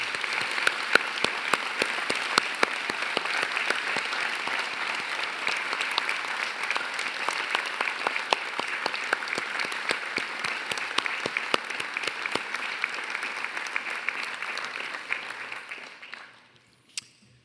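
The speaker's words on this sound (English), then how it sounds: "I wonder if everyone in the audience and my colleagues here would join me in applauding your wonderful" Large audience at a university graduation ceremony in Newcastle, Australia, claps steadily for about sixteen seconds, a dense even patter that fades out and stops near the end.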